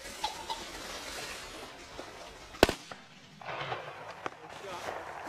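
A single sharp shotgun blast rings out in an open field during a pheasant hunt with a spaniel, sudden and loud against light outdoor background and scattered rustling, with people talking faintly around it.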